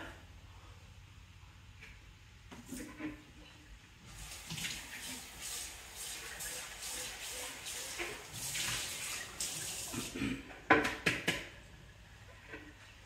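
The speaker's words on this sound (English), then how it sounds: "I'm actually going to rinse this, just put it in this" Tap water runs steadily as a salad bowl is rinsed in a kitchen sink, a continuous hiss and splash that swells midway, with a few sharp clatters of the bowl near the end.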